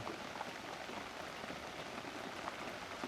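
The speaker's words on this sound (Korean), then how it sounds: "지금 비가 엄청 내리고 있습니다" Heavy rain pours down at a fishing spot in a reed bed, making a continuous even hiss of drops hitting surfaces, fairly soft and distant-sounding.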